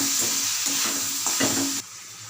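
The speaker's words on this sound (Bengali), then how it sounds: "তেল যখনই ছাড়বে তখন আমি এই গুঁড়ো মশলাগুলো সমস্ত এর মধ্যে দিয়ে দেবো। দিয়ে আবার কিছুক্ষণ এটাকে নাড়াচাড়া করব।" Ground spices fry in oil while being stirred for jackfruit curry, making a bright, continuous sizzle with scraping strokes that quiets abruptly near the end.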